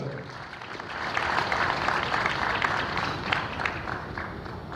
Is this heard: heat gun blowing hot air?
no